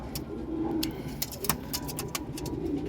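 Racing pigeons cooing nearby in soft, low repeated calls, with light clicks and rustles over a steady background hum.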